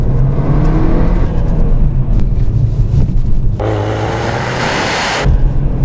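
An Audi S3 accelerating hard after a launch, its engine revving loud and close with a rising whir, a brief shift dip and wind noise buffeting the cabin.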